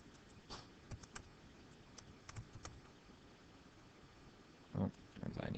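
Someone enters a password on a computer keyboard, producing faint, scattered keystroke clicks in irregular bursts against a quiet room hum, with a slightly louder cluster of taps near the end.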